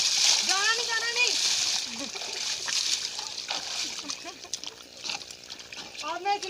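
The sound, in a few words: water splashing while bathing a farm animal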